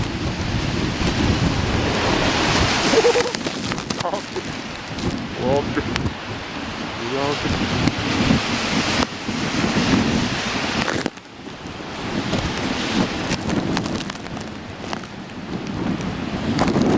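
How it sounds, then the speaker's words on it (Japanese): Strong typhoon wind roars across a seawall lined with breakwater blocks as waves crash in from behind, a loud, gusty rumble of buffeting mic noise with brief calls heard in between. "ちょうど東寄り、後方からの波なんで、風だってすごいですね。"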